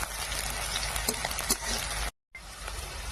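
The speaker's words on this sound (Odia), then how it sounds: "କଡ଼େଇରେ ଅଳ୍ପ ତେଲ ଦେବା। ପିଆଜ ଦେବା। ଅଳ୍ପ ସମୟ ଭାଜି ନେବା।" Onions frying in a little oil in a kadai, a steady close broadband sizzle with occasional stirring scrapes, briefly cut to silence before the sizzle resumes.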